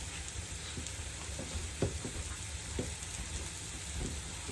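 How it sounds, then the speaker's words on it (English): Mushroom gravy sizzles steadily in a hot pan for steak, with soft scraping stir strokes and a few louder spoon knocks against the pan over a constant frying hiss; no talking. "stirring constantly until warmed through 1 to 2 minutes"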